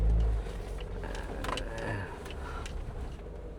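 A Suzuki Jimny rolls over a rough road, giving a steady low engine and road rumble with light rattles and knocks from inside the cabin, heard close and continuous throughout.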